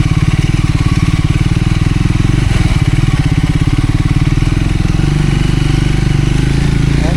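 A motorcycle on an off-road ride toward Jamacho Gumba on Nagarjun runs close and loud, its engine throbbing in a steady, even rhythm throughout.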